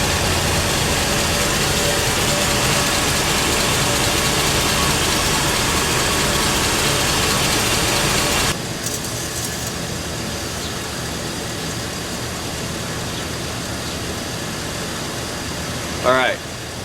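Engine of a full-size rear-wheel-drive GM car idling after a transmission fluid and filter service, a steady low hum that drops sharply in level partway through and continues more quietly, with a brief squeak near the end.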